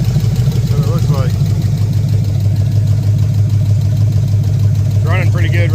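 A 454 V8 idles in a Cadillac Fleetwood hearse with no exhaust fitted, a steady low rumble running throughout while someone talks briefly near the start and again near the end.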